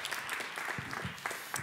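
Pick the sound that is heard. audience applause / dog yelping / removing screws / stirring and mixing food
audience applause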